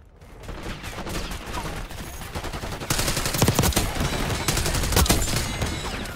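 Sustained gunfire in Call of Duty Black Ops 6, dense overlapping shots and automatic bursts that grow louder and heavier midway, with battlefield clutter throughout.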